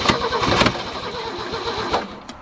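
Ford Mk1 Transit van engine cranking over with a rapid, rhythmic starter churn and sputtering catches, heard close and fairly loud.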